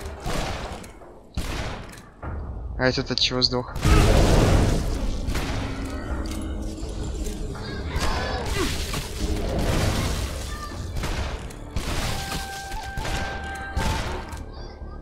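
Enemies in the Shadow Warrior video game blow up in a run of loud booming blasts and bursts of gunfire, with crashing debris throughout the sequence. Someone speaks briefly over the fighting.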